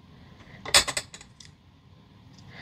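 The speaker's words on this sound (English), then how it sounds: "So I'll line this up at the 7 inches and cut." A quick cluster of crisp metallic snips as scissors cut a 7-inch piece of ribbon for a Stampin' Up! card, close and brief, then near silence.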